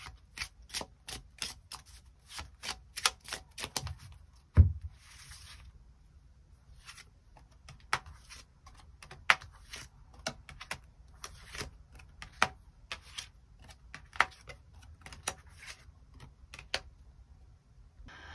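Extra tarot cards are drawn and handled, producing a steady run of light, close card flicks and snaps, with one heavier shuffle partway through.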